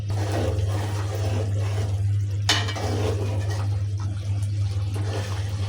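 A spatula scrapes and stirs beef and milk in a pan, with soft scraping and one sharper metallic knock over a steady low hum and light sizzle.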